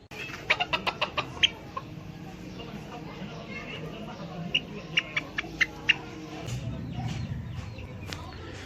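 A Ko Shamo rooster and chickens cluck and peck nearby with sharp repeated chirps, while a person talks in the background.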